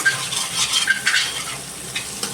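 Capsicum chicken kosha being stirred and sautéed in a pan, with a soft sizzle under scraping spatula strokes and a few light metallic clinks, up close and without talk.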